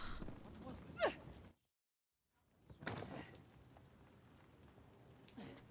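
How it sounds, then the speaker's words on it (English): Rain patters softly in Uncharted: The Lost Legacy, broken by a brief silence and by a few louder knocks or rustles. The whole is faint and low, with no one speaking over it. "It's just the rain doing soundy things. That's what you're hearing."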